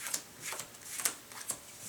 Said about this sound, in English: So we'll deal up the 7 cards